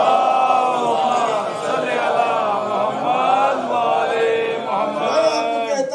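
Congregation at a Muharram majlis loudly chanting salawat in unison, a dense wall of many voices rising and falling in waves, sustained and close throughout.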